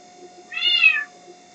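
A single house cat meows once, a clear drawn-out harmonic call lasting about half a second, close and alone against a faint steady hum in a home near a garage.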